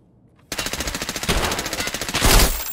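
Automatic gunfire in Escape from Tarkov on the Factory map, a loud rapid burst of close shots in a steady rhythm that starts abruptly after a brief quiet and runs almost continuously.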